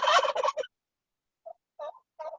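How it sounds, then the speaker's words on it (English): A turkey hen on a small farm gobbles loudly at first in a rapid rattling burst, then after a pause gives three shorter, fainter clucking calls. "that little hen is making noise there"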